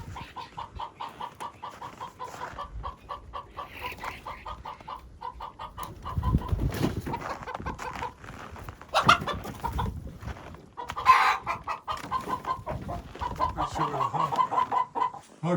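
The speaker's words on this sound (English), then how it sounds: "the chickens are going nuts" Chickens, agitated by a Cooper's hawk nearby, cluck rapidly and continuously in repeated bursts, with louder squawks breaking through now and then, close and fairly loud.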